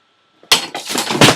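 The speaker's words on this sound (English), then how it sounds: "That was my cat just freaking out and falling off a shelf." A cat falling off a shelf indoors: a sudden crash and clatter of knocked objects, a sharp bright impact followed by a few rattling knocks within about a second, close and loud.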